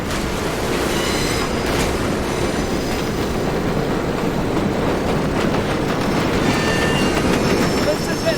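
A train in the Medal of Honor VR game rumbles loudly and steadily on its rails, with rhythmic clatter and faint metallic squeals over a constant low roar.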